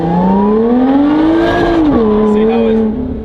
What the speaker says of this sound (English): We're gonna attempt to do launch control.